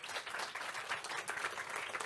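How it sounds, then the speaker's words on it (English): An audience claps for a panel at the end of a 2023 health event session on AI in medicine, producing a steady, dense wash of applause that holds throughout without pause. "if we have a round of applause for our panel here"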